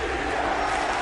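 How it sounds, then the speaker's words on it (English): Patriots fans in a packed football stadium, a dense, loud roar of crowd noise cheering steadily and continuously. "Boy, this Patriots crowd just took over the stadium."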